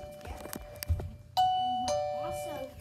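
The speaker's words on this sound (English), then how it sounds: "Here's the doorbell that Graham has." A home doorbell in an upstairs hallway chimes twice in quick succession, each tone ringing out clearly and sustaining after brief nearby voices and movement.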